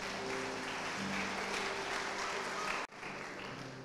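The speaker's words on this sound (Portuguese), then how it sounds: "Pode aplaudir o Senhor." A church congregation breaks into steady applause during a sermon, a dense wash of clapping that carries on for nearly three seconds before cutting off abruptly, leaving quieter room noise.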